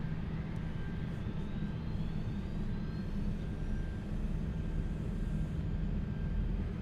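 Airbus A380X jet engines running in Microsoft Flight Simulator, a steady, loud low roar with a thin whine held above it and no change throughout.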